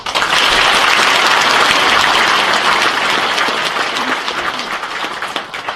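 A large audience applauds loudly at an anniversary ceremony of a retired police officers' association held at the Sejong Center in Seoul, dense continuous clapping filling the hall from start to finish and easing slightly toward the end.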